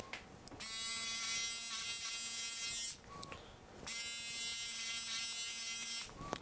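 Electric hair clippers buzz close up while trimming hair, guided by a HairFin, in three steady bursts separated by short pauses.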